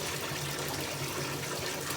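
Water gushes steadily into a tub to wash a hunting pack. The rush is constant and close, with no pauses and no voices.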